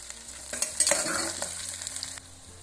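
Onion and green chillies frying with cumin in hot oil for jeera rice, a loud close sizzle that flares as the ingredients hit the pan and then settles into steady crackling with some stirring.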